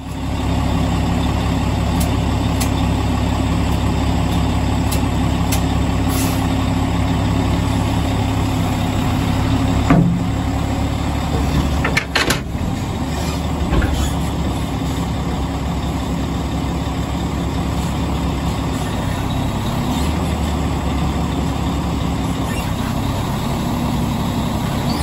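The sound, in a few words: truck tractor backing up and automatically coupling to trailer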